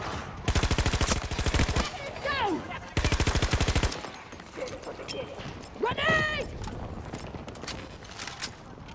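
Suppressed automatic fire in Battlefield 2042 rattles out in two dense bursts near the start, then gives way to whooshing effects and a quieter stretch of game ambience; a voice talks during parts of it.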